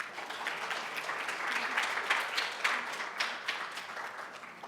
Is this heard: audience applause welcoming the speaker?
yes